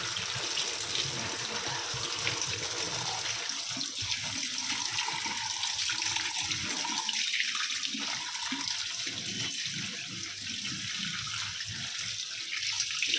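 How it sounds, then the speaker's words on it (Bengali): Tap water runs steadily and close by while rohu and mrigal fish are washed, a continuous splashing hiss with small changes in the flow and no voices. "জল ধরছে দিই।"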